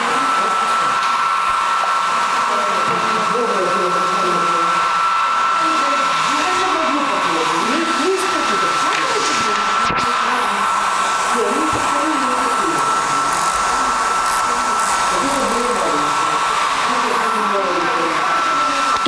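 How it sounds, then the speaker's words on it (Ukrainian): A hair dryer blows steadily and loudly throughout during an art class workshop, a constant whooshing hum with people talking faintly underneath. "Тримати треба тут, а цією фен."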